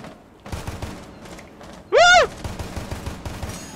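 Gunfire in the video game Rainbow Six Siege: a single loud, sharp burst lasting about a quarter second, standing out in the middle of a quieter stretch of game background noise.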